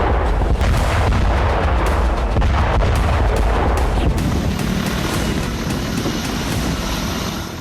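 Heavy blasts and rumbling from Ukrainian air strikes on bridges in Belgorod, a loud sustained roar with repeated booms that slowly fades toward the end.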